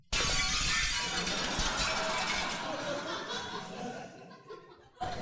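A football smashes through glass French windows, a loud crash of shattering glass followed by tinkling fragments, with laughter and murmuring voices in a comedy setting.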